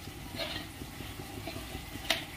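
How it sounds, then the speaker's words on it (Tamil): Onions, green chillies and curd being stirred in a pan, with soft sizzling and faint scraping and a couple of brief clinks. "சேர்த்து நல்லா ஒரு 2 நிமிஷத்துக்கு வந்து கிளறி விட்டுட்டு"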